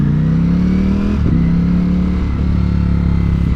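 A Ducati Panigale V4S superbike in sport mode, heard while riding, hums with a loud, close engine drone whose pitch rises, dips briefly on and off throttle, then settles, over constant wind rush.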